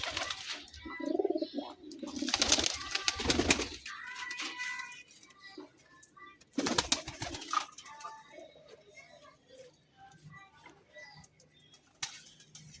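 Pigeons cooing outdoors after rain, soft repeated coos near and at mid distance, broken by a few loud rustling bursts like wing flaps, with brief quiet voice sounds.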